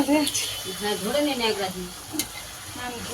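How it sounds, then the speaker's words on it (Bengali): Meat sizzles and spatters as it is stir-fried with spices in a small kadai, with voices talking over the frying. "মাংসটা কষানো হবে মশলার সাথে হবে কড়াতে"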